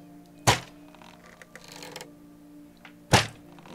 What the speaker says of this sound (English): They use their crossbow, so they can't hit you very well, but they do.